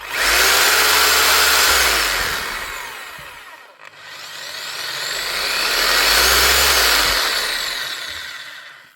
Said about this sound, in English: The wee Bosch up and running